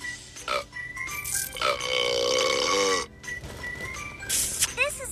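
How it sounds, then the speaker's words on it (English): A cartoon baby character in a mobile care game lets out a drawn-out burp over cheerful game music and chimes, with a short sparkly sound effect near the end. "Help Emma burp."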